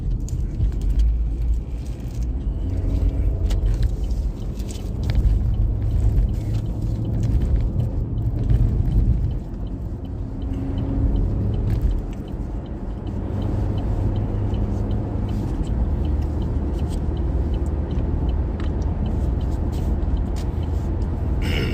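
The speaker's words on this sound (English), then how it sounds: "We are motoring down the 99 again and again and again." Interior road noise from a car cruising down the 99 highway on a morning commute: a steady low rumble and tire roar that swells and eases, with faint passing traffic and no talking.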